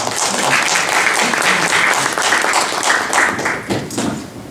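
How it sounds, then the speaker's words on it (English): A conference audience at an opening ceremony claps to welcome a speaker, a dense burst of applause that stays steady for several seconds and thins slightly near the end. "It's always nice to have the applause before you speak"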